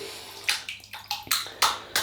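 Tap water splashes while a shaving brush is wetted before lathering a soap, coming as about seven short, close splashing bursts with brief pauses between them.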